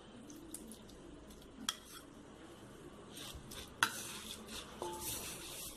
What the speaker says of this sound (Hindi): इसे मिक्स कर देती हूँ।